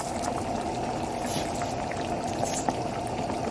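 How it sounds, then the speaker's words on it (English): Washed rice is poured into a pot of Jamaican ackee and saltfish seasoned rice with pig tail and shrimp, a steady close rushing patter like bubbling liquid filling the pot, with no speech. "my rice is washed and I'm just gonna add it in"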